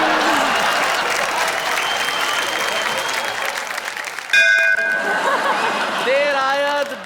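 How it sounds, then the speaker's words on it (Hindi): On the stage of the Hindi TV comedy-poetry show Wah Wah Kya Baat Hai, a bell strikes midway with clear ringing tones that hang over steady audience applause and chuckles, while someone talks throughout. "आपकी ये जो घंटी है थोड़ी देर से बजी"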